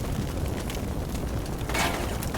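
Grenades fired from a Stryker vehicle in the war game Combat Mission Shock Force 2 burst as a dense, rumbling stretch of booms and blasts, loud and continuous, with a sharper crack toward the end.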